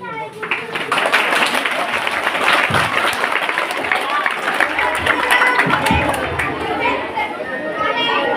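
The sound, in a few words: audience applause after adivasi dance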